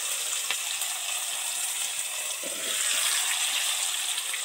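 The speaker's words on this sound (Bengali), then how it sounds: "এবার এর মধ্যে ভাজা আলু আর পেঁপেটা দিয়ে দেব।" Fried potato and papaya pieces hit hot oil flavoured with bay leaf in a kitchen pan, setting off a steady, hissing sizzle with faint crackles throughout.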